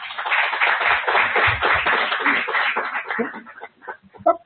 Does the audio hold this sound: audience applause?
yes